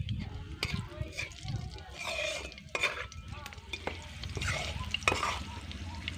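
Panch phoron, a bay leaf and green chillies frying in oil for a banana-flower dish, with a soft sizzle under frequent close stirring and scraping of a spoon in the pan.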